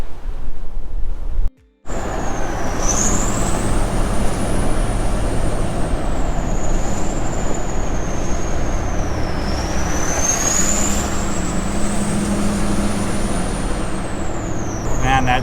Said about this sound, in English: Man, that turbo sounds so good.